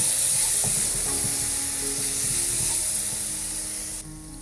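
Continuous crackling sizzle of a paneer bhurji tadka frying in oil and butter, with a few light utensil taps and stirring scrapes, close and fairly loud.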